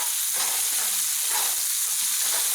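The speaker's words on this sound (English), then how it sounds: "brown the mushrooms and garlic. Throw a couple little pieces of butter in there." Mushrooms and garlic sautéing in butter in a pan, a steady close sizzle and crackle that rises and falls slightly throughout, with no talking.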